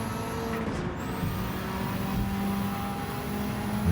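A Subaru 22B 1998 Group B race car in Gran Turismo 7 roars on track at the Tokyo circuit, engine tone holding steady and shifting slightly in pitch, loud and unbroken with no talking.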